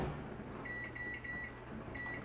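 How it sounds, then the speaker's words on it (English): A kitchen microwave oven being set, giving a series of short electronic beeps in quick succession, then a pause and one more beep, heard alone at moderate level over a faint room hum. "All right, into the microwave for, oh, let's see."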